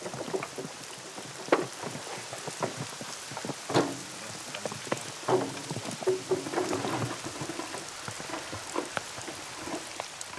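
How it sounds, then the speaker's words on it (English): A heavy rain downpour, steady hiss with scattered louder drops and splashes, fairly faint and continuous, with occasional low rumbles and no voices. "The drizzle that's been falling since they started out has now turned into a heavy downpour."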